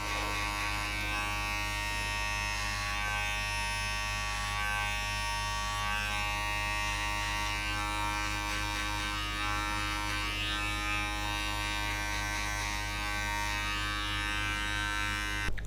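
Electric hair clippers fading a girl's hair at a barber, giving a steady, close buzzing whine that runs unbroken and even for the whole stretch with no talk.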